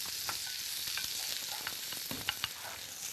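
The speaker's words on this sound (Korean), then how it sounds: "자 이렇게 해서 살짝만 볶으세요" Cucumber stir-fried in a hot pan gives a steady, close sizzle broken by soft clicks from stirring, with no talking.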